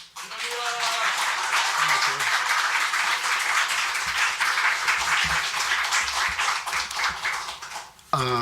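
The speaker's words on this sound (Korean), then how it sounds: "우리 나오실 때 큰 박수로 맞이하시기를 바랍니다" Large conference audience in a church setting applauding to welcome a pastor, a sustained dense crowd clapping that builds and holds for several seconds before cutting off abruptly.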